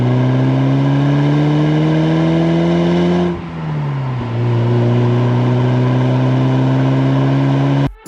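A 1987 Porsche 944S with a naturally aspirated 2.5-liter inline-four drones loudly and steadily in Need for Speed Porsche Unleashed. Its pitch climbs gradually, drops briefly as it shifts, then builds again before cutting off abruptly.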